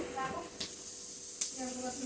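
White mustard seeds in hot mustard oil give off a soft sizzle with a few sharp pops and crackles at irregular moments, close by and fairly quiet, with some talk.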